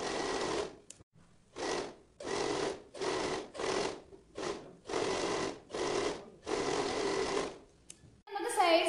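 A sewing machine stitches the side seams of a one-piece flared A-line kurti in a string of short, close bursts separated by brief pauses.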